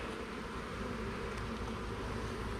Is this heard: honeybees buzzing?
yes